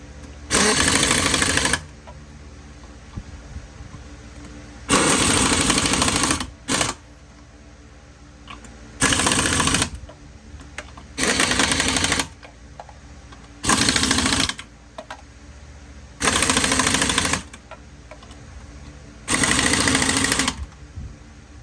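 Impact wrench tightening the wheel lug nuts during an off-road rear suspension swap, eight loud buzzing bursts of about one to two seconds each, separated by short quiet pauses, heard close.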